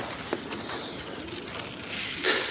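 Pigeons coo softly at a moderate distance, several low murmuring calls over a quiet background, with a brief louder flutter near the end.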